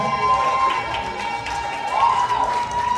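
At a 55th birthday party, a crowd claps and cheers for the host's mother, a busy mix of applause and voices beneath a steady tonal hum, with a swell of cheering midway.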